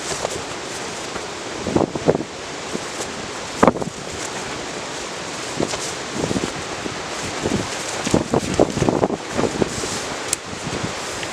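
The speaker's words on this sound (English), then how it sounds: "It's looking a bit windy out there, folks." Wind gusting around a woodland tarp camp, with rustling and flapping in uneven bursts and a constant breathy roar and buffeting nearby.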